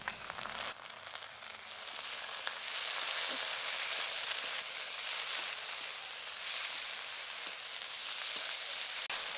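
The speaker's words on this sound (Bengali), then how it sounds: "আদা রসুন বাটা দেওয়ার পর ভালো করে নেড়ে চেড়ে নিয়েছি" Ginger and garlic paste with onions frying in oil in a pan, a steady bright sizzle that holds throughout, with occasional faint stirring scrapes underneath and no voices.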